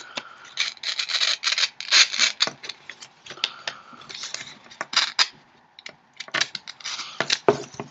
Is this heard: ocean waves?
no